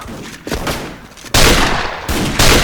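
Rifle gunfire in the Special Force shooter game, a CAMO MSG-90 DMR: several loud, sharp shots cracking close and hard, with bursts of dense firing one after another.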